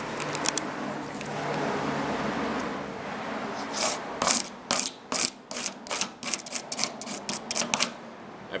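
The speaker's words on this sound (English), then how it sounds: "I'm scuffing up the edges with the serration on this, and then I'm scraping down the back with the flat of this" A serrated tool scuffs the edges of a piece and its flat scrapes debris off the back, giving a run of sharp, rhythmic rasping strokes up close after a quieter stretch of softer scratching.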